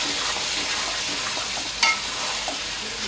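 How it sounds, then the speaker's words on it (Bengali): Chicken pieces for biryani stir-fry in a pan, giving a steady close sizzle and hiss with one sharp clink of a utensil partway through. "চিকেনটা ভালো মতো কষিয়ে নিতে হবে।"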